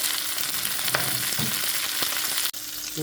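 Sea bream frying in a pan after a sprinkle of Goan salt, giving a loud, continuous sizzle and crackle with a few faint clinks, close by and without talk.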